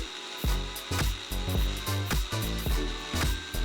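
An electric chopper grinds spice paste with a little oil for Padang-style chicken curry, its motor whirring in short repeated bursts about every half second, close and steady.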